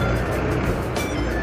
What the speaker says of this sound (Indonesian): Dan bus-bus Pacaya langsung berangkat, semoga selamat sampai tujuan.